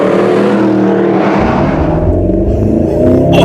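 A Mercedes SLS AMG engine roars loudly up close, its pitch rising steadily as it accelerates hard, a deep throaty rumble underneath.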